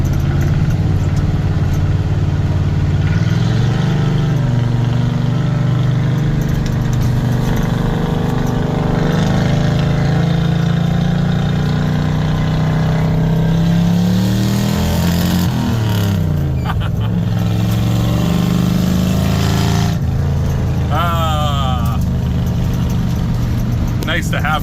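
Truck engine running steadily after a new timing chain was fitted, a loud continuous mid-pitched idle with slight rises and falls in revs throughout, close by, with someone talking over it.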